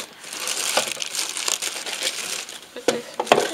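A plastic bag crinkles while a birdhouse is unpacked, a close, steady rustling and crumpling with sharper crackles toward the end and no talking.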